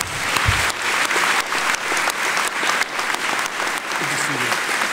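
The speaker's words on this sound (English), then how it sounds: "Please join me in applauding these accomplishments." Audience applause at a high school senior assembly, a loud and sustained crowd clapping that surges in waves throughout, with a brief voice near the start and muffled talk in the background.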